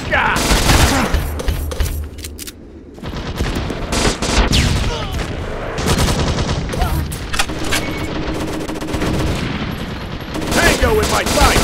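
Beretta ARX160 rifle fire in the Modern Strike Online mobile shooter game, dense rapid bursts of automatic shots with brief pauses and explosive booms, loud and continuous.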